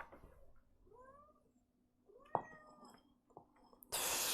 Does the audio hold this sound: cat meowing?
yes